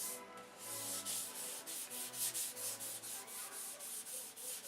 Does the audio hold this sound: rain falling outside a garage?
no